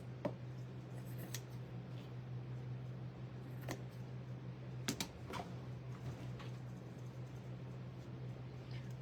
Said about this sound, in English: These scissors trim this.